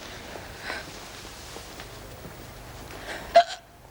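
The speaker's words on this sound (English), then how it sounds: "Now I've got the hiccups." A woman hiccups once, sharp and close, near the end of a quiet indoor stretch with faint rustling and footsteps.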